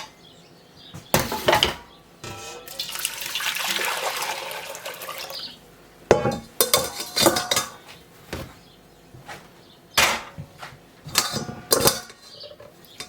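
Whey being poured back into a pot while making homemade cream cheese. It comes as a splashing liquid pour followed by clattering clinks of metal utensils and the pot, close and moderately loud.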